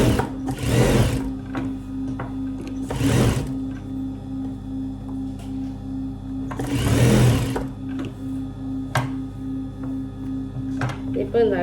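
Sewing machine running a line of stitches along the edge of a neck piece, in three loud bursts of rapid mechanical whirring separated by pauses, over a steady low hum.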